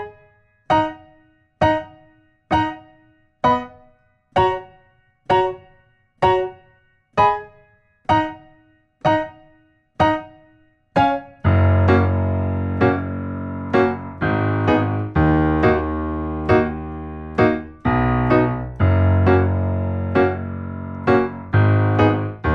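Piano plays the main riff of twenty one pilots' "Ride": first a dozen evenly spaced single staccato notes, then fuller sustained chords in a steady rhythm, solo and clear.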